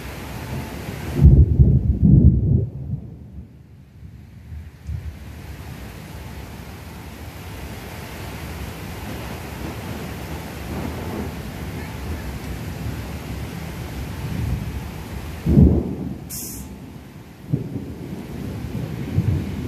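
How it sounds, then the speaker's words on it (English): Steady rain pours down outdoors at the Disney Skyliner Caribbean Beach station construction area. Two deep thunder rumbles, one early and one later, roll beneath the constant hiss of the downpour. "it doesn't look like the rain's going to let up anytime soon here"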